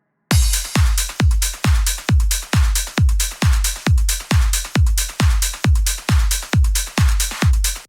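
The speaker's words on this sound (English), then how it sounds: "Together, all of the drums sound like this." The full drum mix of a trance track, with a steady four-on-the-floor pattern of punchy, crunchy kicks and bright percussion on top, repeating evenly and loud with no voices.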